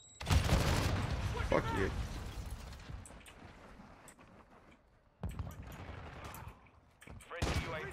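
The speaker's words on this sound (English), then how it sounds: "Throwing grenade!" Gunfire and a grenade blast sound in a Modern Warfare 2 match: a loud burst of shots and explosion, then quieter stretches and another volley, while a player shouts over it.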